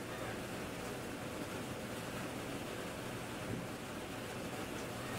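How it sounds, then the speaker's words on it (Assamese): Strong wind on a hill during Cyclone Amphan, with rain falling, producing a steady broadband roar and buffeting that stays constant and fairly soft throughout. "বতাহৰ কাৰণে মোৰ হাতখনৰ কেমেৰাটো লৰচৰ হৈ গৈছে"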